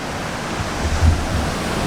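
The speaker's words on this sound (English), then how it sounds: "Got this beautiful river coming down." Wren Falls river tumbling downstream through autumn woods, a steady broadband rush of flowing water with no voices, fairly loud and continuous.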